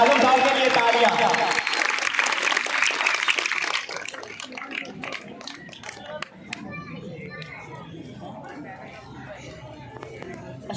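Loud audience applause at a Pakistani stage comedy drama fills the first four seconds, then drops away into scattered claps, chatter and voices of people talking.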